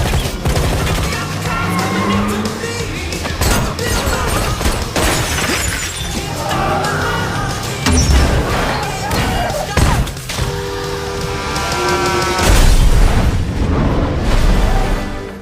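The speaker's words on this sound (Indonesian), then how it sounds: "baku tembak dan perkelahian sengit pun berlangsung" Chaotic action from the film Heads of State with bursts of gunfire, crashes, heavy thuds and shattering, dense and loud with brief voices mixed in.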